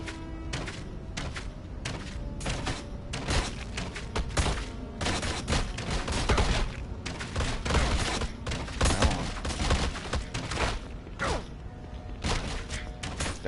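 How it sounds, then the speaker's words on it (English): Enemies in the sewers of Baldur's Gate: Dark Alliance spitting acid slime, a dense barrage of sharp splattering impacts and bursts over a rumbling game-action backdrop, irregular and continuous. "They're like shooting acid slime or something."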